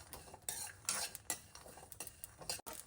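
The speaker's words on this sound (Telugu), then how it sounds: "వీటన్నిటిని డ్రై రోస్ట్ చేసుకుందాం." Sesame seeds, dried coconut, cashews, shahi jeera, cumin, cinnamon and cloves dry roasting in a pan, stirred with a utensil that scrapes and clinks against the metal in short repeated strokes, close and fairly quiet with no talking.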